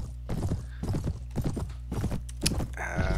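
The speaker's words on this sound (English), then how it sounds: "Hey, horse, what are you doing? Stop running." Hooves of a horse clip-clop in quick rhythmic bursts as it runs off in the Mount and Blade Warband video game, close and clear, with a short whinny near the end.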